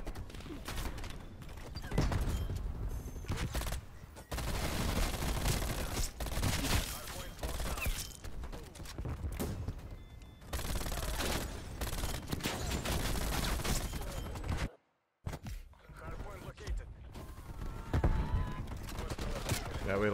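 Call of Duty Cold War multiplayer gunfire, with a MAC-10 setup, rattles in near-constant bursts and fusillades across a long stretch of play, with one brief dropout, while voices talk over the shooting.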